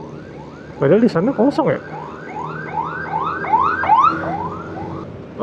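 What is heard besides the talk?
ambulance siren on the road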